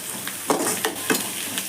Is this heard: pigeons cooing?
no